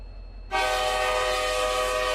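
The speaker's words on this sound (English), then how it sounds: "So what about the horn test?" Amtrak Talgo Cascade locomotive horn in the RO-Scale Sandbox video game, a loud sustained chord starting abruptly after a moment of quiet hum and holding steady to the end.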